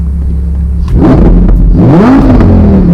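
A Lamborghini Huracan Performante Spyder exhaust in Strada mode, revving close by: a steady idle rumble, then two loud rising revs with pitch swooping up and settling back, no talk.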